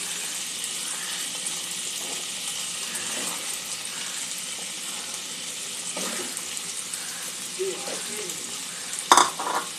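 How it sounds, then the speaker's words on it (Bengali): Cut potatoes fry in a pan of oil for a Bengali jackfruit and prawn curry, with a steady, close sizzle throughout, a brief word spoken over it, and a clatter of stirring near the end. "আলুটাও একটু ভেজে নেব।"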